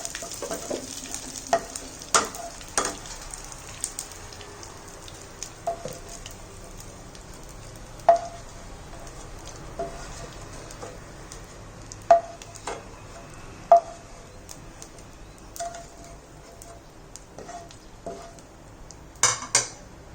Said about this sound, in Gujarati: थोड़ो थोड़ो एड करता जाशुं अने गुंद ने फ्राय करी लेवानो छे